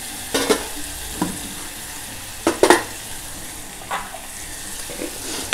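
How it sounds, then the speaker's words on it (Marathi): Chavai pods and spices sautéing in a pan, a soft, steady sizzle with a few sharp scrapes and clinks of a spatula against the pan. "चांगलं जरा परतून घेऊया."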